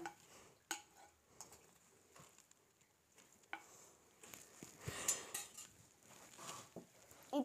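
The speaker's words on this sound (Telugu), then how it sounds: "చూసారా అండి, అంత ఫాస్ట్ దంచుతాను నేను." Mint chutney being pounded by hand in a kitchen, giving quiet, irregular knocks and clatters of utensil on stone or pot, scattered sharp hits over a low background.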